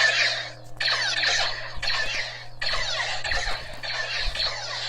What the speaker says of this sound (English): Hear the squeak, the squeal of the blasters from the traditional movies